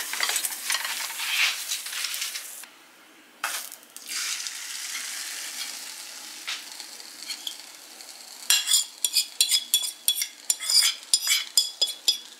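Pão de queijo cooking in a frying pan, heard as soft steady sizzling with a brief quiet gap, then a run of sharp clinks and scrapes of a utensil against the pan toward the end.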